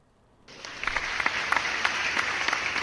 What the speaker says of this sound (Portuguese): recebam batendo palmas nas suas casas neste momento, Amanda Graciano.